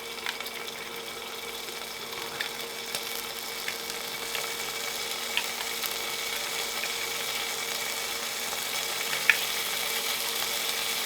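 Anchovy fillets fry in a little oil in a pan, giving a steady, even sizzle with faint crackles, continuous and moderately close, with no voices.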